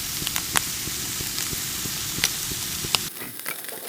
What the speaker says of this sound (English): So I'm giving the bacon a good old cook here, so it goes a bit crispy on me.